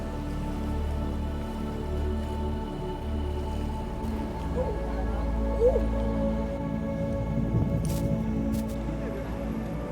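Rain and drizzle fall in Trafalgar Square, London, making a steady soft patter across the whole stretch, with a low outdoor city rumble underneath.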